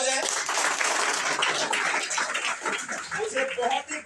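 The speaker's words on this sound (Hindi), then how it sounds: "जोरदार तालियां हो जाए।" Applause at a school award ceremony honoring a student of the year with a medal, dense clapping from a crowd filling the room steadily, with some voices mixed in.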